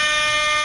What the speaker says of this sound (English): we blow the air horn and scare them into running out into the road